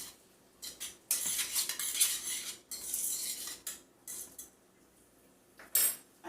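A metal spoon stirs onion and ham frying in oil in a pot, giving bursts of scraping clinks against the pot that come and go, with quieter gaps in between.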